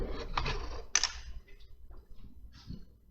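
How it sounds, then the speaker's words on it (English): A camera is handled and shifted in a home garage during a Jeep WJ 4.7 water pump job, giving a few quiet clicks, knocks and rustles over about three seconds. "let me reposition this camera without blocking your view, hopefully"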